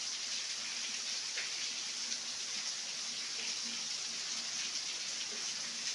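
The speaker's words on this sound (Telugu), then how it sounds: "వర్షం చూసారుగా ఎంత లావు చినుకు పడుతున్నాయి." Heavy raindrops fall in a steady, even downpour, a continuous close patter and hiss with no voices.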